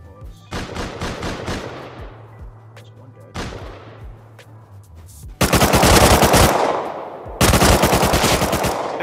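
AK assault rifle fire in the survival game Rust on console: rapid automatic bursts with ringing decay, then two long sustained loud volleys, close and dominant.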